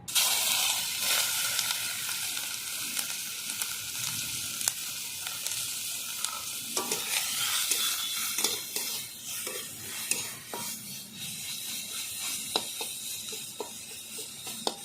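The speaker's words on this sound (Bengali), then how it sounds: "মাছ ভেজে নিচ্ছি" Prawns frying in mustard oil in a kadai, a close, steady crackling sizzle punctuated by spatula scrapes and light metal clinks throughout.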